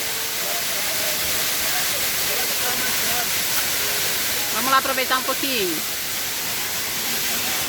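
Broadband rushing roar of the Véu de Noiva waterfall in Rio de Janeiro state runs steady from start to finish, with people talking over it and a brief burst of voices near the middle.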